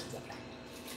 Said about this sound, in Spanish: Solo es pasarlo por agua caliente.